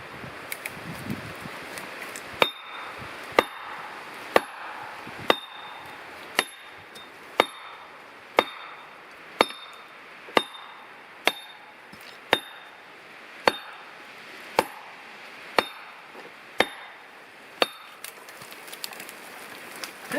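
Steel wedges are driven into the felling cut of a standing tree outdoors, giving about sixteen sharp, ringing hammer blows at a steady pace of roughly one per second, loud and close against faint outdoor background.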